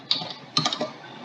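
Typing on a computer keyboard: two short bursts of quick, close key clicks separated by a brief pause, faint and with no voice.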